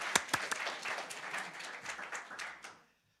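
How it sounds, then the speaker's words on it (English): A graduation ceremony audience claps in a short, fairly quiet burst of scattered hand claps that thins out and fades to silence near the end. "You can clap, you can clap."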